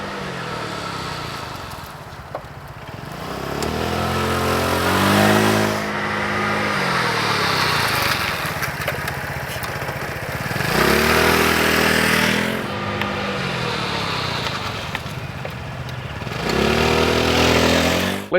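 A scooter's small engine rising and falling in pitch as the rider takes a corner and then brakes hard in a straight line, with repeated revving swells and drops in a close, continuous drone and no talking.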